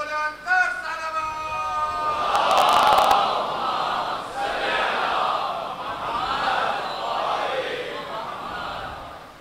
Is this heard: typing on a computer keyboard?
no